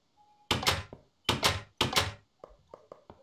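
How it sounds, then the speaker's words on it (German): Wooden doors opening in the Minecraft video game: three loud, hollow clunks in quick succession, followed by a few softer knocks and clicks, with no voices. "Ich kann die Tür öffnen."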